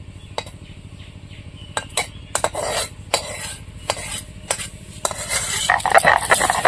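Roasted kohlrabi leaves scraped from a hot pan onto a grinding stone beside a village stove, with sharp metallic scrapes and clinks in an irregular series over a faint background sizzle.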